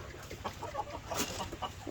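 Soft, short clucks from a hen, several in a loose irregular series, fairly quiet against a faint background.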